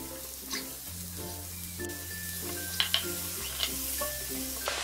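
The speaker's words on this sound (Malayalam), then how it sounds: "ഹൈ ഫ്ലെയിമിൽ ഇട്ടിട്ടാണ് നമ്മൾ ഈ വെജിറ്റബിൾസ് ഒക്കെ വഴറ്റിയെടുക്കുന്നത്" Vegetables and beans sauté on a high flame for chicken fried rice, giving a steady close sizzle with occasional scrapes and clinks of stirring throughout.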